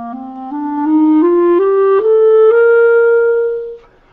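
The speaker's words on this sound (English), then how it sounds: "that's how you get the sound on the clarinet" A clarinet plays a slow rising series of sustained notes, stepping up about once every half second before holding a final tone, clear and close with no talking.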